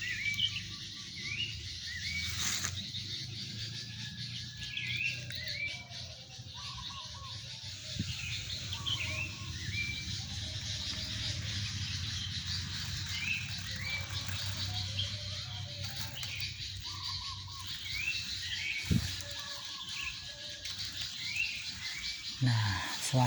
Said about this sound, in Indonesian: suasana di sini mah itu pemirsa banyak masih banyak burung-burung di sini